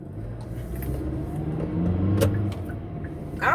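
Car engine pulling away and accelerating at the start of a drive, a steady low rumble rising slightly, heard from inside the car.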